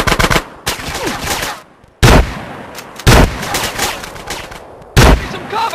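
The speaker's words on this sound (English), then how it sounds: "That was a sniper bullet!" Loud bursts of gunfire from GTA San Andreas, sharp repeated shots and automatic volleys arriving in four or five separate blasts with brief gaps between them.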